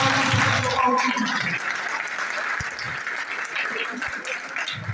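An audience at a literary seminar in Lahore applauds to welcome a speaker, dense clapping strongest at the start and gradually thinning, with faint murmurs underneath.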